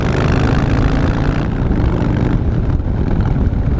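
A 2015 Harley-Davidson Breakout motorcycle engine running hard, a loud continuous low rumble with steady exhaust roar and small shifts in tone as the bike pulls along.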